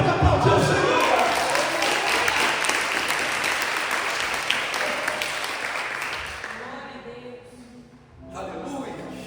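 A church congregation claps together in a dense, sustained round of applause that fills the room, gradually thinning out and fading, with scattered voices underneath toward the end.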